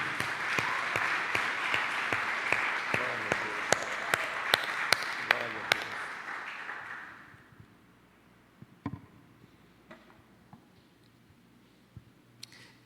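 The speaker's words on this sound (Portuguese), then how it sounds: "Vamos aplaudir a palavra de Deus," Church congregation applauding loudly with dense clapping for about seven seconds, then fading to scattered faint claps and room noise.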